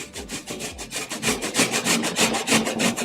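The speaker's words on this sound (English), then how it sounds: "I'm going to start grating because it makes noise here on the microphone." An apple rubbed against a fine grater, giving a close, steady rhythmic rasping with regular strokes that grow a little louder toward the end, with no talking.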